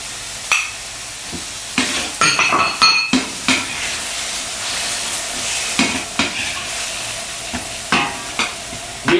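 Cucumber being stir-fried in a wok for moo shu pork, a steady sizzle broken by repeated scraping and clanking strokes of a utensil against the metal pan, close and fairly loud, with no talking.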